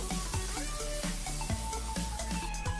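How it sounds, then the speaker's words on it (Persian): Grated garlic sizzles in hot oil in a pot, a steady crackling fry broken by soft, regular stirring knocks and scrapes. "When the oil is hot, pour the garlic in it and let it fry."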